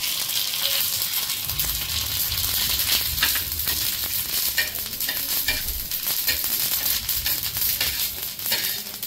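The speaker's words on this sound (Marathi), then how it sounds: "त्याच तेलात आहे ना ही खसखस आणि आवळी टाकून घ्यायची" Poppy seeds and amla fry in hot oil, a dense, continuous sizzle with scraping stirring strokes throughout, close and steady with no voices.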